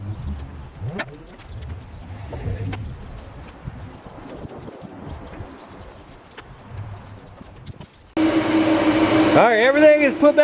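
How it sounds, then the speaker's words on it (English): Upgraded electric radiator cooling fans on a car kick on abruptly after a stretch of low rumbling, then blow with a loud, steady rushing whoosh up close to the end. "You can definitely tell that these fans are blowing a lot harder."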